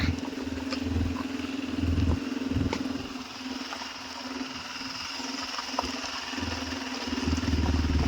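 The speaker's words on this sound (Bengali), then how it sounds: "তো আমরা এখন যাচ্ছি দাদার বাইকে করে নিচে গাড়ি আনতে" A motorbike engine runs steadily and close by, a low continuous hum with a slight idle-like throb, on a hillside road in Darjeeling as the bike heads downhill.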